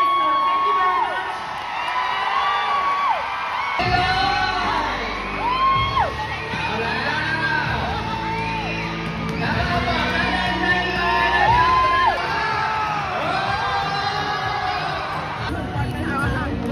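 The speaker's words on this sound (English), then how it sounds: "We've been cheering from the beginning till the end." Crowd cheering at a volleyball match in Phuket, Thailand: loud, sustained whoops and shouts from many voices, rising and falling in waves throughout with no letup.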